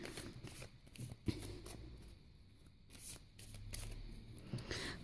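A deck of oracle cards is shuffled close up, with soft riffling and flapping of the cards. It is quiet and has no talk over it.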